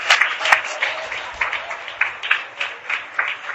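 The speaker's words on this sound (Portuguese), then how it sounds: "Você que crê, dá um aplauso poderoso ao Senhor nessa noite." Congregation at an evangelical church service claps together in a fairly regular rhythm, moderately loud, with some voices faintly mixed into the crowd sound.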